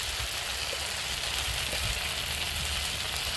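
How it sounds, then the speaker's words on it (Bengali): Onions and tomatoes fry in a pan with a soft, even crackling hiss that holds steady throughout, close by and with no talking. "দেখুন পেঁয়াজ আর টমেটো আমার নরম নরম মতো ভাজা হয়ে গেছে, হালকা ব্রাউন হয়েছে"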